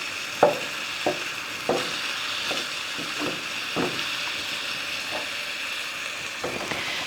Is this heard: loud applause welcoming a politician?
no